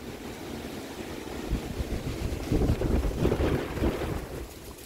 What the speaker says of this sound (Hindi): ये इतनी तेज़ हवा है कि एक दरख्त जो है ना वो गिर गया।